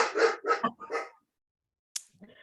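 A dog barks three or four times in quick succession, near and fairly loud, then falls silent before a faint yip and a little more soft sound near the end.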